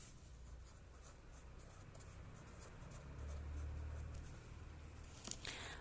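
A pen scratching steadily across the pages of a large notebook, a soft, continuous close-up rustle that runs for several seconds with no one speaking.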